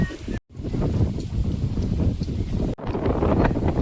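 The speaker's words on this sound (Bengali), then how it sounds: "ঝড় উঠছে।" Strong gusting wind of a rising storm outdoors, a loud rough roar buffeting the microphone continuously, with two brief cutouts of near silence.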